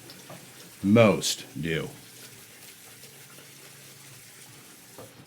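Tap water splashes briefly over a slant razor being rinsed at a sink, one short gush followed by a second smaller one, then fading to quiet room tone; a voice speaks briefly nearby.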